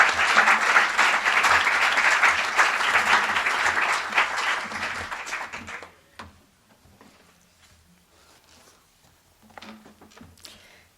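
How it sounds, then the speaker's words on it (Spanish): An audience at a university event breaks into applause that is loud and dense for about six seconds, then thins to scattered claps and rustling. "vamos a darle un aplauso"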